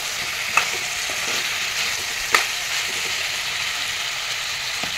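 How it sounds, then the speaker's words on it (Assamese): Chicken curry with ginger garlic paste frying and sizzling steadily in a pan, a continuous hiss broken by a few sharp clicks of a spoon stirring against the metal, close and alone with no voices. "আদা নহৰু পেষ্ট এচামুচ এইখিনিও এনেদৰে লৰাই দিম তলপৰ কৰি"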